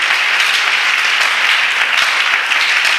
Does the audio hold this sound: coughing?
no